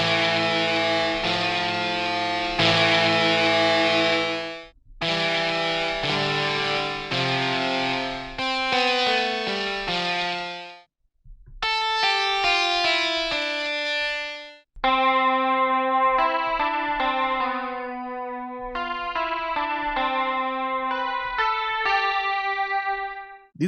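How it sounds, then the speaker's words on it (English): A free VST plugin plays heavily processed, filtered and distorted electric guitar phrases, sustained chords and melodic runs with effects and echo, loud and clear with no talking. "These are some really great filter guitar sounds."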